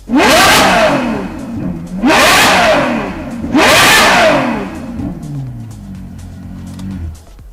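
A widebody Ferrari F12's V12 engine with an F1 exhaust revs hard three times in quick succession, each loud roaring burst of exhaust dropping off, then settling into a lower rumble.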